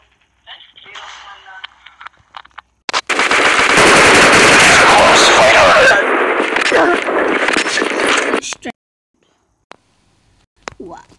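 Automatic gunfire in Call of Duty rattles out in a loud, sustained burst lasting several seconds, bracketed by quieter in-game sounds before and after.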